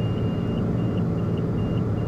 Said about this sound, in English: The sound of incessant beeping